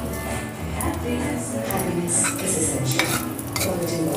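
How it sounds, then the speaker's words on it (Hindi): Steady hiss of cumin seeds sizzling in hot butter in a pan, with a utensil scraping and clinking against the metal throughout, close up. "अब हमन के तड़का खातिर सबसे पहले जीरा डाल जाए थोड़ा सा।"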